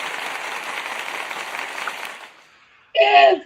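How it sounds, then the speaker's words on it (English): Brief applause sound effect played on a talk show, a short burst of clapping lasting under a second after a stretch of hissy background noise. "Wait, I forgot to do our applause."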